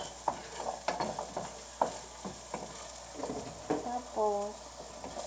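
Carrots sauté in a pan with a soft, steady sizzle, while a utensil scrapes and stirs in repeated close strokes. A brief tonal squeak comes near the end.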